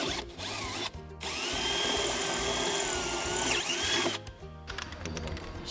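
A power drill whirs steadily while enlarging holes in parts of an abandoned airplane. It runs for about three seconds, with short bursts and pauses before and after.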